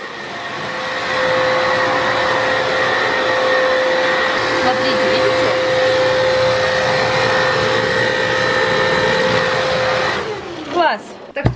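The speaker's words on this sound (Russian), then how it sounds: "Так что да, пылесос, конечно, прикольный, и он даже сильно дороже стоит, чем наш тот Dyson." A household vacuum cleaner, newer and pricier than a Dyson, runs with a loud steady whine and drone for about ten seconds before switching off. A brief voice speaks over it near the start.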